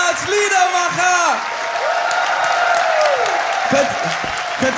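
After a song-maker's performance, an audience applauds and cheers steadily throughout, with an announcer speaking and shouting over the clapping.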